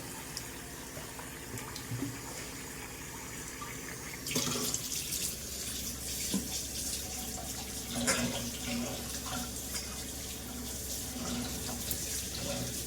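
Tap water runs steadily into a sink in a home kitchen, a continuous close splashing stream with a louder surge partway through and small clatters of handling.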